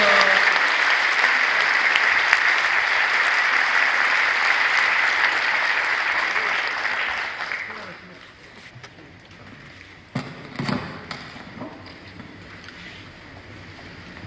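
A congregation at a joint Easter worship service applauds in a large hall. The sustained, loud clapping lasts about eight seconds and then fades to room noise, with a few scattered thumps afterward.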